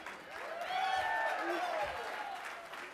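A conference audience at a keynote hosted by Disney's Mickey cheers and applauds in a steady swell. A bright whooping tone rises and falls over the crowd noise.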